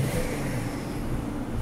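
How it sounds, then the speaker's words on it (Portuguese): A Porsche sports car engine in Sport mode with the exhaust valve closed, revving in a steady, loud, close drone that holds for the whole stretch with no voices over it. "vamos ver ele acelerar"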